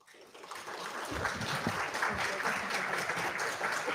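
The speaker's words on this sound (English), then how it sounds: "Give that applause for him." An audience at a congressional hearing on UAP transparency and whistleblower protection breaks into sustained applause that builds over the first second and holds steady and moderately distant, with no voices over it.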